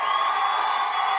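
A stand-up comedy club audience in New York City cheers and applauds comedians, a brief, steady burst of crowd noise with no talking over it.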